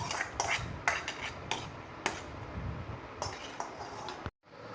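Ghee tempering being poured into pongal in a pot: quiet clinks and knocks of metal utensils against the vessel, a few sharp taps amid soft scraping, ending abruptly.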